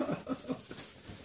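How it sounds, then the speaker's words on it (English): Six-week-old West Highland white terrier puppies let out a few small, high yips and whimpery barks in quick, uneven succession, close by and fairly faint, with no talking. "About this age, they start to bark."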